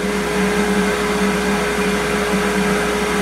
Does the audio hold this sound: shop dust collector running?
yes